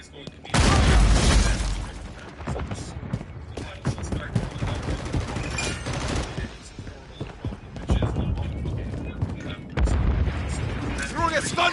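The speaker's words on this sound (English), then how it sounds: "Tossing grenade!" Grenade blasts in Call of Duty MW3 booming loud and close amid dense gunfire and shattering debris, with heavy low-end explosions near the start and again later, while a voice talks over the combat.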